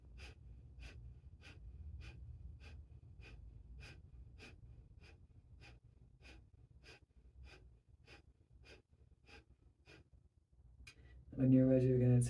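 A yoga class breathes in strong, rhythmic bursts, about fifteen sharp exhales in an even pulse, close and fairly soft, and a voice cuts in briefly at the end.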